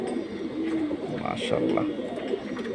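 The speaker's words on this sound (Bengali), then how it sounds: "এই যে দেখুন ফ্লাইয়ের কবুতর" Pigeons kept as flying birds, one a hen, are held up by hand and coo in low, soft murmurs beneath steady nearby talk.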